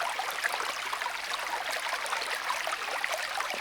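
Stream water trickling and splashing steadily while a water bladder is filled through a filter on a backpacking trip in Savage Gulf, Tennessee; a soft, close, continuous burble.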